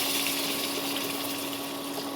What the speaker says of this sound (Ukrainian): і я вливаю сюди воду. Гарячу. Кип'ячину.